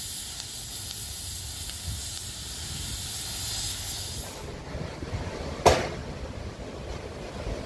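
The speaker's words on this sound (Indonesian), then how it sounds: "ada pula petugas yang memotong-motong ujung besi-besi seed pile" Workers cutting the ends of steel sheet piles at a dike reinforcement construction site in Kelapa Gading Barat, North Jakarta: a steady hissing, sizzling cut that drops away midway, followed by a single sharp metallic strike and quieter site noise.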